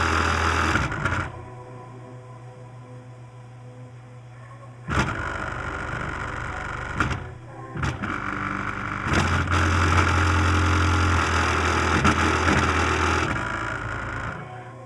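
An Aura Interactor vibration vest buzzes with a mechanical, motor-like hum in bursts, switching on and off abruptly and changing intensity over several seconds, with no talk.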